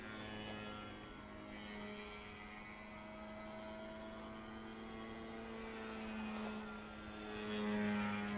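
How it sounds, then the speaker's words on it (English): Multiplex Hummel RC model airplane with a 28-size brushless motor flying overhead: a steady tonal drone at moderate distance, faint and even, swelling slightly at the end. "the motor I've got in this one is a 28 size brushless motor"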